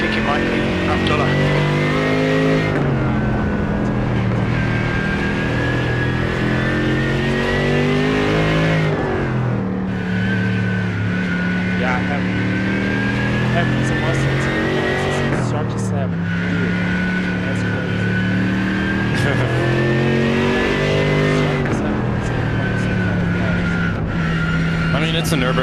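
Race car engine lapping the Nürburgring Nordschleife in a racing video game, a loud continuous engine note that rises and drops repeatedly through gear changes and braking, with a brief skid, running steadily for the whole stretch.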